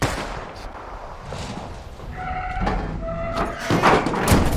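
A gunshot aimed at a junker car's left tire in the video game Life Is Strange Remastered, heard as sharp bangs and metallic clanks among game sounds, with a short tonal ring, no talking.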